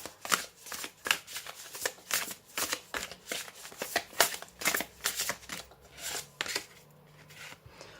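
Thick tarot cards being shuffled by hand, a rapid series of crisp riffling, rubbing bursts in an uneven rhythm, close and fairly quiet, tapering off toward the end.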